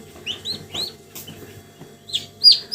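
Young turkey poults chirp in short, high peeps, a few scattered calls close by over a quiet background.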